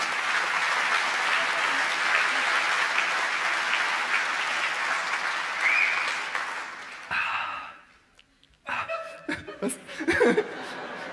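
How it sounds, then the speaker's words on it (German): Science slam audience breaks into loud, sustained applause with chuckles and laughter mixed in, the clapping fading after several seconds before scattered laughter and voices pick up again. "Ich habe auf den Applaus gewartet"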